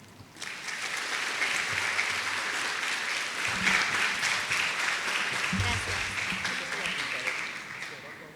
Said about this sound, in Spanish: recibamos con un fuerte aplauso a la especialista en nutrición clínica